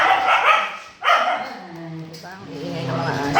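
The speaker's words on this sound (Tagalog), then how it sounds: "Ang iingay ng mga aso." Several dogs barking at close range, sharp barks and yips in a noisy burst near the start, then fading into quieter whimpering tones, with a person talking over part of it.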